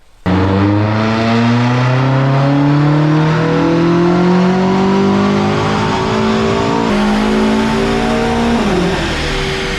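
A BMW M5 Competition on a dyno revs hard, its engine roaring loud and close with a tone that climbs steadily for about nine seconds before dipping slightly near the end, no voices.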